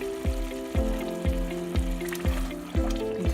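Hot cooked tuna sizzling and frying in a pan as canned mushroom soup is added, a steady close sizzle with a regular thudding, scraping stir repeating roughly every half second.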